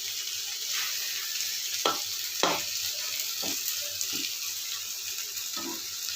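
Okra frying with homemade spices in a pan gives a steady close sizzle, with a few soft clinks and stirring knocks scattered through it.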